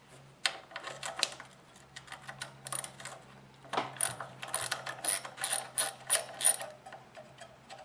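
A hand ratchet removing a 10mm bolt under a generator carburetor, clicking in fast irregular runs of pawl ticks, close up, with short pauses between strokes and a faint steady hum behind.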